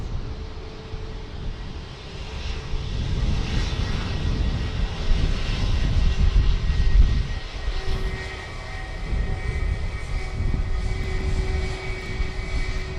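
A Jetstar airliner taking off from runway 16 right at Sydney Airport, a steady loud engine roar with a deep rumble that swells and holds throughout, heard from a distance with no voices.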